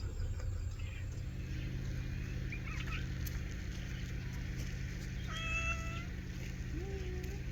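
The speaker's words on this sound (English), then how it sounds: "This is my cat Orlando." Cat meowing a few short times in a garden, faint and distant against a steady outdoor background hum with other faint chirps.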